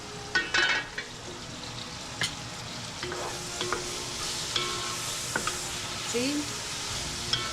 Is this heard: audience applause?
no